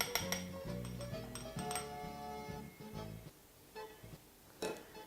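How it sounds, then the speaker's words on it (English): Glass and ceramic dishes clink and knock as drained apples for an apple pie are moved into a bowl. The close, ringing taps come in irregular clusters, busy at first, then thinning to sparse clinks with pauses. "we can now move those into a bowl on the side."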